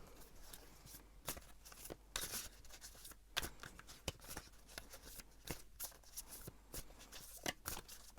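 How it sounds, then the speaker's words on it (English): A deck of tarot cards is shuffled in soft, quiet riffles and crisp flicks, repeated irregularly over several seconds at close range. "I'm gonna shuffle and see what"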